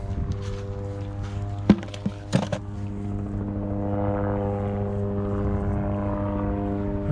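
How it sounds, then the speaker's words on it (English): A helicopter drones steadily overhead near a waterside dock, its low rotor hum continuous throughout, with a few brief knocks and thumps near the start. "that's a helicopter."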